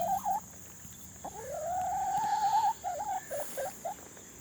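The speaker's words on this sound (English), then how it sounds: "Ducks." Ducks on a small permaculture farm alongside chickens, giving a few short quacking calls and one drawn-out rising call, fairly close and clear with no talking.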